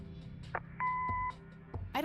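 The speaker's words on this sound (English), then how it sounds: "Leave a message after the beep." A single steady electronic answering machine beep in the game Kathy Rain sounds for about half a second, preceded by brief faint clicks and followed by a short burst of voice.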